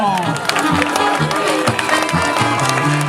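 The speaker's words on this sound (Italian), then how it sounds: "Applaus, un applauso per i nostri pirati del Casso." Crowd applause and cheering for the pirates team at a Karjola Challenge 2014 event, a steady dense wash of clapping with a voice talking over it throughout.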